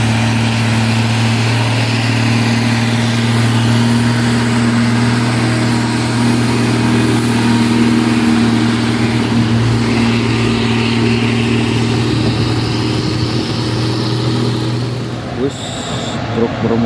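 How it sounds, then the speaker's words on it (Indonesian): Heavy Fuso Fighter truck with an intercooler, loaded and working a hill, its diesel engine droning steadily and loudly at close range throughout, fading slightly near the end. "ini truk Fuso Fighter dengan intercooler."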